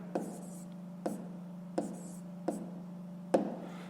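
Pen strokes on paper while a fraction is handwritten during a fifth-grade maths exercise, five short scratchy taps spaced about a second apart over a steady low hum.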